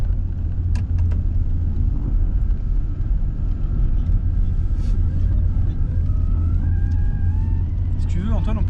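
A car driving on a misty Scottish mountain pass: a loud, constant in-cabin engine and road rumble throughout, with people talking inside the car over it.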